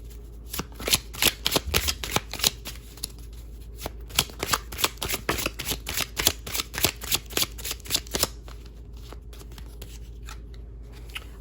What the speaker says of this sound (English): I do want to pull an oracle card for this.